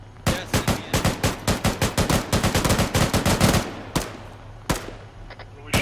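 Loud rapid machine-gun bursts in a military shooter game, a long fast run of shots followed by a few isolated single shots.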